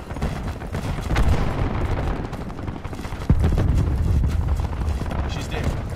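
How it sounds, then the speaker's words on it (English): Cluster grenade explosions in Black Ops 4 team deathmatch on the Firing Range Night map: a sharp blast partway through sets off a dense rumbling burst over an already busy backdrop of game noise and gunfire. "Throwing cluster grenade."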